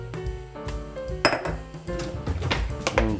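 A utensil mixes beef marinating in fish sauce, black pepper and oil in a bowl, clinking and scraping against the dish in quick, repeated strokes, close and fairly loud.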